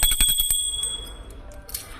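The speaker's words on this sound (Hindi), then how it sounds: "घंटी बजाते हुए आपको आरती करना है इस तरीके से।" A hand bell rung during Ganesh aarti at a home puja, bright repeated strikes with a sustained metallic ring that fades and then sounds once more near the end.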